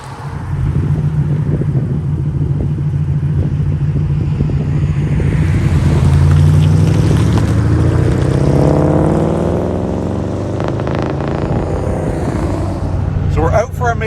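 A Lincoln Town Car being driven after repair of a timing chain failure, its engine droning low with a rising and falling tone as it accelerates, under steady road and wind noise.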